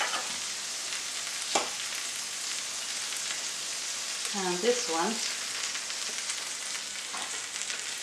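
Butter sizzles lightly and steadily in a frying pan while a grilled cheese cooks, a constant crackling hiss, with a brief spoken remark partway through.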